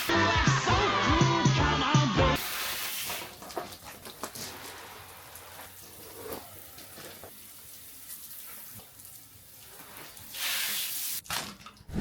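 A steady hiss of water spraying from a hose over a dry-poured concrete pad, continuous for most of the stretch, with a louder burst near the end.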